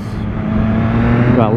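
A Galante car passes on the road, its engine rising in a steady sweep that grows louder as it nears, with voices around it.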